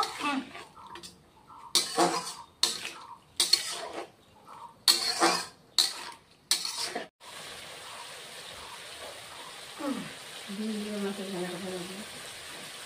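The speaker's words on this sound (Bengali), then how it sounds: "আর অল্প একটু কষিয়ে নিব" Katla fish in mustard paste cooks in a pan with a soft, steady sizzle that takes over after a stretch of talking, along with faint stirring and clatter.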